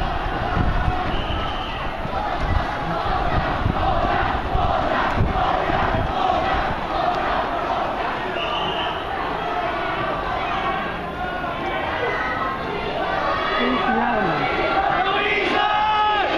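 Protesters occupying the Executive Yuan in Taipei shout and yell as a large crowd, a loud, continuous clamor of many voices with rising cries, scuffling footsteps and occasional sharp knocks.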